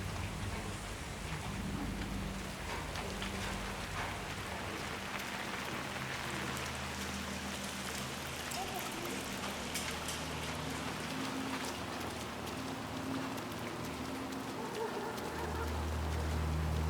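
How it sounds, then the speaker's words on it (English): Steady rain falling in the video game Hitman 3, a dense continuous hiss of drops with a low rumbling undertone and faint distant ambience, no speech. "Let's get you out of the rain"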